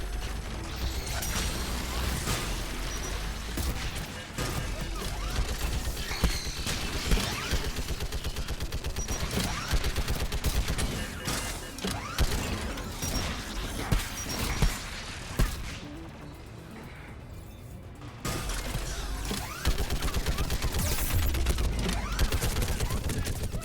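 Mass Effect 3 combat with rapid gunfire and turret guns, dense continuous crackling bursts and mechanical clatter throughout, loud and busy, with brief talk mixed in.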